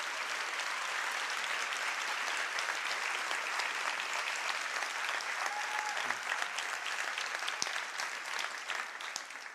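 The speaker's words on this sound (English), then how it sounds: "Please give them a round welcome to Circularity." Steady, dense applause from a conference audience in a hall, continuous clapping at even strength throughout with no voices over it.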